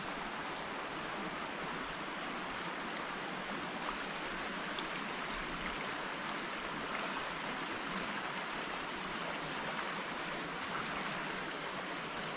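A stream in the Welsh countryside flows steadily in a constant, broadband rush of water, even and unbroken, with no voices or other sounds.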